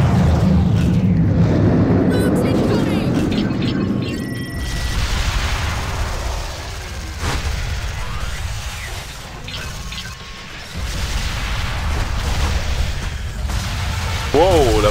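A huge cannon in the co-op tower defense game Sanctum 2 fires heavy booming blasts with rumbling low impacts, loud and continuous under game noise, with crashing bursts repeating across the stretch.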